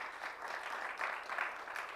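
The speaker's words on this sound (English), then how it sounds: "Let's clap for them again." An audience at an African public health conference claps for a panel, a continuous, moderately loud wash of hand claps with slight swells, no talking over it.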